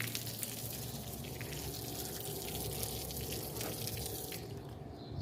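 A steady stream of running tap water splashes continuously, fairly close, with no talking.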